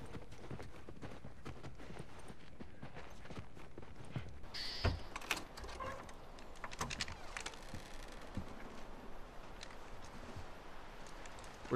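Horse hooves clip-clop in The Last of Us Remastered, a steady run of light hoof strikes over a busy game soundscape with a sharp thud partway through.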